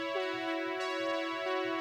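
A Prophet synthesizer plays a retro, classic-sounding patch: a steady sustained tone with a bright harmonic stack, held for nearly two seconds with slight swells, loud and close with no talking.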